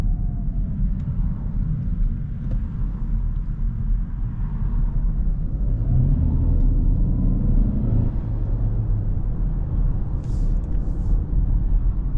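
Cupra Terramar VZ 1.5 e-Hybrid with 272 hp and DSG gearbox in sport mode, heard from inside as a steady low engine rumble and road drone that swells slightly midway, with no talking over it.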